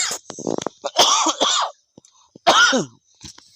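A few harsh coughs and throat-clearing bursts during a mutton keema pav eating challenge, close and loud, in short clusters separated by brief pauses.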